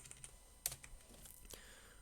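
A few quiet, scattered clicks of keys being pressed on a computer keyboard while numbers are entered, sparse and close, with a couple of sharper taps and no talk.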